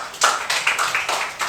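Students in a classroom clap together for a few seconds, a close, bright patter of overlapping hand claps in uneven bursts.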